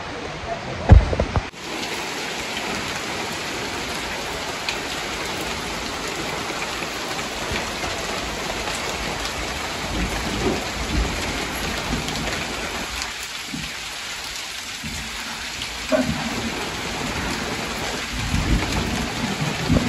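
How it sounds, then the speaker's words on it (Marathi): Steady rain falls on a village in Dapoli during Diwali, a dense hiss of drops on surfaces with a sharp knock at the start, continuous and fairly close throughout. "इकडे ऐन दिवाळीत परत पाऊस चालू झालाय"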